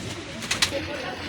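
Pigeons coo softly in a loft, a low murmuring coo with a couple of brief sharper bird sounds over a faint background hum.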